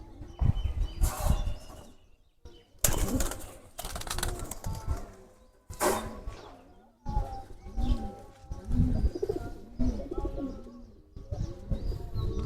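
Giribaj pigeons coo nearby while bursts of wing flapping break in several times, loud and close, with chirps between.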